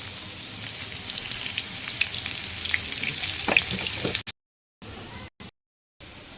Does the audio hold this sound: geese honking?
no